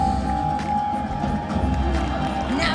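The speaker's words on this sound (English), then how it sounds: "Ladies and gentlemen, cheer him on." A live audience cheers and shouts steadily at a sea lion show at SeaWorld San Diego, a broad continuous roar of crowd noise with a presenter's amplified voice heard faintly in the mix.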